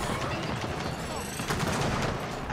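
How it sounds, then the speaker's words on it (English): Rapid, continuous automatic gunfire from a video game, blind-fired in a steady loud stream of overlapping shots that fill the whole stretch without a break. "I was just blind firing!"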